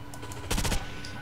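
Rapid gunfire in the video game Rainbow Six Vegas 2, a short loud burst of several closely spaced shots lasting under half a second, with quieter background game noise before and after.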